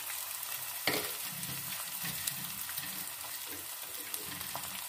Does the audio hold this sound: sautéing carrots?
yes